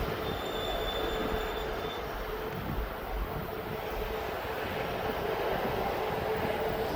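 A DHL Boeing 777 freighter on its takeoff run at East Midlands Airport, a continuous broad engine roar heard from a distance with a faint high whine.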